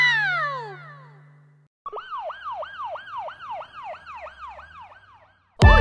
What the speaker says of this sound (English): Ambulance!